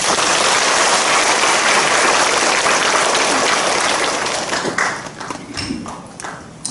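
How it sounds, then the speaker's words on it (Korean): A church congregation applauds during a revival service at Incheon Onnuri Methodist Church. The clapping is loud and dense for several seconds, then thins out and fades. "우리 주님께 영광의 박수 올리겠습니다"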